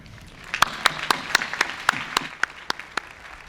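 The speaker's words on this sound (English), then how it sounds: "Let's applaud for them anyway" Sparse, distinct hand claps, about a dozen, ring out one after another over a soft crowd wash at a Ball State University spring commencement, as the audience applauds graduates with academic distinction.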